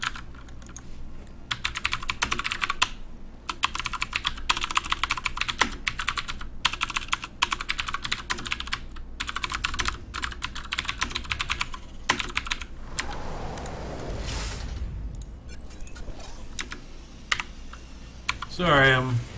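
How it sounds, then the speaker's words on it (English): Rapid typing on a computer keyboard clatters in dense, uneven bursts of sharp key clicks throughout, with a softer stretch of rustling and handling noise near the end and no clear talk. "Sorry, I'm typing."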